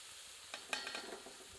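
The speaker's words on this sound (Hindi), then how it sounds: "जीरा भुनते ही कटी हुई प्याज बर्तन में सम्मिलित कर देते हैं।" Chopped onions go into a pan where cumin seeds are roasting, and a steady soft sizzle follows. A few light clinks and stirring scrapes sit on top of the frying, fairly faint and with no voices.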